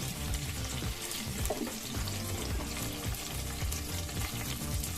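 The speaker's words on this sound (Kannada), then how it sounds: "5 ನಿಮಿಷಗಳ ಕಾಲ ನೀಟಾಗಿ ಎಣ್ಣೆಯಲ್ಲಿ ಫ್ರೈ ಆಗಬೇಕು ದಪ್ಪಮೆಣಸಿಕಾಯಿ ಎಲ್ಲ." Chopped capsicum fries in oil in a home kitchen pan for a batani bath, giving a steady dense crackle and hiss without pause, close and fairly loud.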